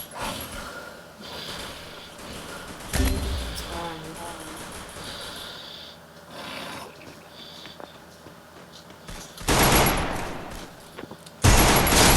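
Gunfire in the Free Fire mobile game comes as scattered bursts of shots, a few loud volleys standing out against quieter stretches of in-game sound, with players talking in Portuguese between them.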